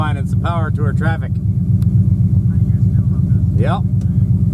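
Hot rod traffic on the Power Tour, a dense steady engine rumble from cars rolling together on the road, loud and continuous, with people talking over it.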